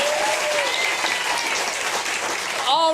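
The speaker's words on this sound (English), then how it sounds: "Give yourself a round of applause." A packed-house audience at a live radio show applauding steadily throughout, with a voice speaking over the clapping at the start and the end.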